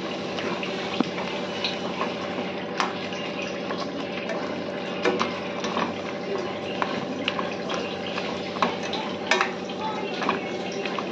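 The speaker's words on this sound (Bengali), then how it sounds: "এবার এই লাস্টে এই ভাজা মশলাটা ছড়িয়ে আর মিশিয়ে দিচ্ছি।" A spoon works fried spice mix into tamarind pickle in a pan, giving a continuous soft scraping and sizzling texture with scattered light clicks, close and moderately quiet, with no talking.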